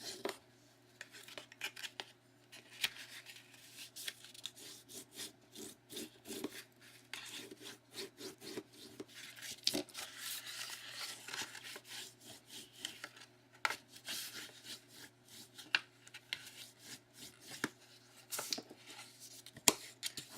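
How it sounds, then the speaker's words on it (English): Paper gift box score marks being folded and burnished, a quiet series of dry rubbing strokes and scratchy swipes at an uneven rhythm, close and soft. "now we're gonna fold and burnish all of our marks"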